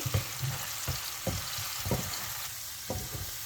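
Kashmiri chilli, salt and spices frying in a pan are stirred, giving a low sizzle broken by about five distinct scraping strokes spread at irregular intervals, close and moderately loud with no talking.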